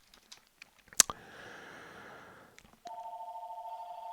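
A telephone rings faintly in another room, its steady tone starting partway through after a sharp click and some keyboard tapping nearby.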